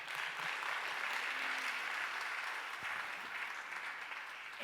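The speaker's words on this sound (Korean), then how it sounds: "박수로 환영하겠습니다." A church audience at a Baptist pastors' gathering gives steady welcoming applause for a missionary saxophone player, an even wash of many hands clapping at a moderate distance, fairly quiet overall.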